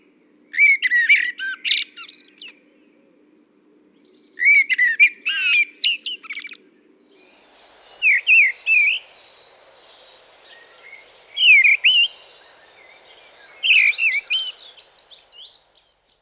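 Clear, close song phrases from a blackbird or mistle thrush: two varied warbling bursts, then shorter repeated whistled notes after a gap. Faint insect-like hiss sits under the later phrases.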